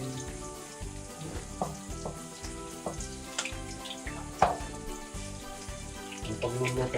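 Chopped onions sautéing in a pan for Ilocano-style chicken tinola, a steady close sizzle with scraping stirs and light clinks throughout, plus soft background music.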